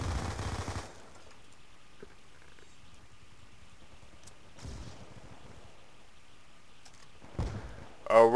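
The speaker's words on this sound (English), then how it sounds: "I'm shooting a shotgun." Shotgun fire in the video game Call of Duty: Black Ops 2 free-for-all match, faint and distant, with a muffled blast at the start and another near the end over quiet game ambience.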